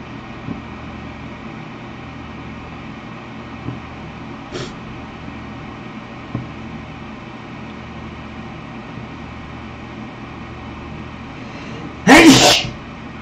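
A single loud sneeze bursts out near the end, close and abrupt, standing out over a steady low hum and faint background noise, with a few small knocks earlier on.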